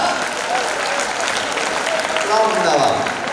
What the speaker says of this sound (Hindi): भाई जरा एक बार ताली बजा दो